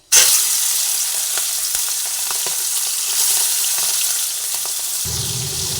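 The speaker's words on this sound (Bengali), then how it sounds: "তেলের মধ্যে চিংড়ি মাছগুলোকে দিয়ে আমি প্রথমে ভেজে নিচ্ছি" Prawns dropped into hot oil in a pan burst into a loud, steady sizzle that carries on without pause, with a faint lower rumble near the end.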